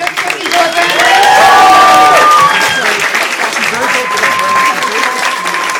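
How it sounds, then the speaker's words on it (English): Loud applause with cheering and whistles from a crowd at an Out for Gillibrand campaign event honoring Senator Kirsten Gillibrand, dense clapping throughout with shouts and a voice over the top, peaking early and then continuing steadily. "One more round of applause for Senator Kirsten Gillibrand"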